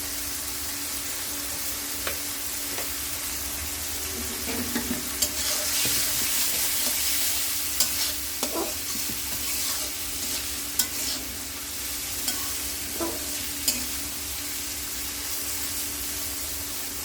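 Bitter eggplant bhaji with turmeric sizzles and fries steadily in a pan, with occasional stirring scrapes over a continuous loud hiss.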